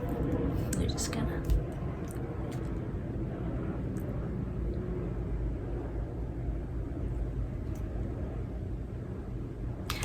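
An airplane passes overhead as a low, broad rumbling drone that stays steady throughout, with a person speaking softly near the start.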